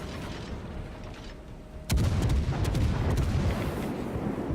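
Naval guns firing armor-piercing shells at a destroyer in a naval warfare video game: a loud salvo boom lands at about two seconds, followed by a sustained rumble of gunfire and impacts over steady background noise.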